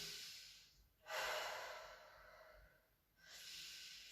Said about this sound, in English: I want you to just take a moment to really deep breath in here.